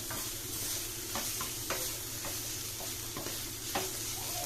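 Vegetables and garlic sauté in a pan with a constant close sizzle, broken by several sharp clicks and scrapes of a utensil stirring against the pan.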